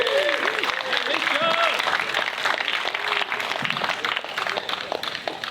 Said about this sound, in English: Round of applause for GivePact.